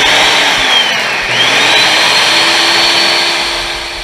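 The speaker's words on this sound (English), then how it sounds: "let's get our professional blender" A professional blender runs loud and steady for about four seconds, a high whirring motor with a pitch that dips briefly then climbs back, blending ingredients for birria tacos with consommé in a home kitchen.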